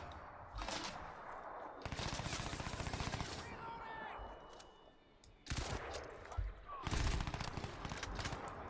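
Automatic gunfire from the video game Crysis 2 comes in long, loud rattling bursts separated by brief quieter gaps, with the sustained fire near and dense.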